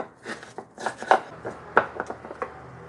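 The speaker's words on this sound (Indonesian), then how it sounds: "Ini ada lemon, tomat, terasi. Sekarang saya ulek dulu." Chili, lemon, tomato and shrimp paste are ground in a stone mortar, giving soft irregular rubbing and knocking strokes, close and fairly quiet, with no talk.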